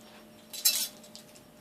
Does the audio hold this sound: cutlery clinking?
yes